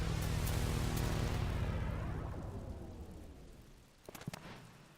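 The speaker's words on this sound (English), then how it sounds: "I don't think the emulator is doing the raindrops justice." Rain falls in the PlayStation 1 game Vagrant Story, a steady dense hiss that slowly fades, with a few sharp clicks and knocks near the end.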